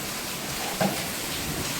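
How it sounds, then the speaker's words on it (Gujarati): Steady rain falls through the whole stretch as a soft, even hiss of drops, with one brief louder patter partway through and no voices. "વરસાદ ચાલુ છે"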